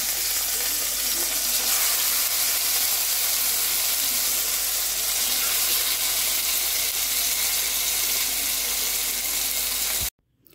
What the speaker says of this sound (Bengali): মাছগুলো আমি ভালোভাবে উল্টে পাল্টে ভেজে নিচ্ছি, একদম লাল লাল করে